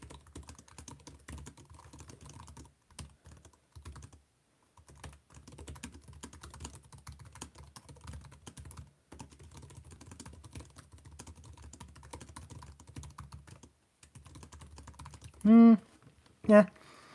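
Steady typing on a laptop keyboard with plasticky keycaps, a quick, continuous patter of soft clicks up close, ending with a couple of louder sounds.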